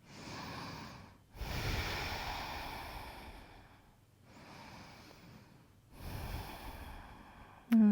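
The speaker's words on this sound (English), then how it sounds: "One more breath here." Slow, deep breaths during a yoga pose with head hanging and hands shoulder-width apart, heard as long airy inhales and exhales in a calm rhythm, close and fairly soft, with short pauses between breaths.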